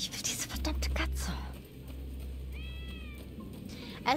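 A cat meows a few times in the video game Rise of the Ronin, quick, drawn-out calls over a steady low hum, moderately close and fairly clear.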